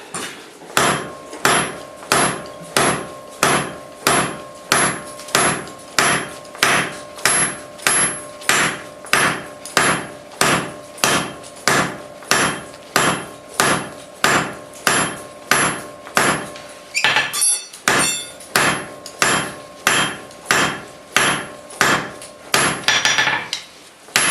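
Hammer blows ring on an anvil while forging bolt jaw tongs, dozens of loud, close metallic strikes in a steady even rhythm, with a brief scraping clatter near the end before the blows resume.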